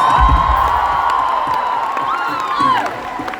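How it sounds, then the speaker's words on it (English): Large concert crowd in Wellington cheers and applauds the opening bands, a dense roar of clapping with whoops and shouts, loud and sustained throughout. "Round of applause."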